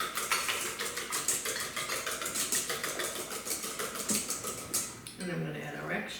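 Eggs being mixed into biscotti dough in a bowl, a fast steady clatter of a utensil against the bowl that ends with a brief low hum, heard close.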